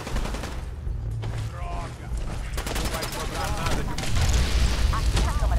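Bursts of rapid gunfire in Fallout 4 on hard mode, with power armor in Nuka World: loud, overlapping shots and booms fired in quick volleys, while someone talks over the shooting.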